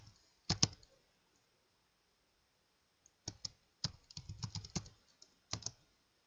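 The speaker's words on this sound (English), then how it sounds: "So I think I'm going to type Open Office." Bursts of typing on a computer keyboard, quiet and close, with clusters of clicking keystrokes separated by pauses and no talking.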